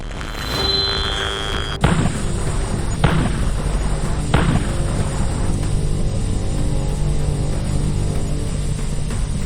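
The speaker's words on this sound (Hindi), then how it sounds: "एक दिन गांव के लाइट के खंभे में अचानक धमाका हो गया।" A sharp bang as a village electric light pole explodes, followed by a couple of heavier thuds and a lingering low rumble and hum.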